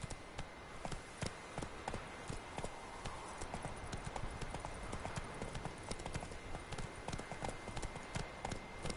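Roach the horse gallops in The Witcher 3, hooves clip-clopping in a fast, steady rhythm, close and continuous, with faint game ambience underneath.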